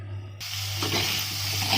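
Potatoes frying in a wok, a dense sizzle that starts abruptly and holds steady and close over a low hum.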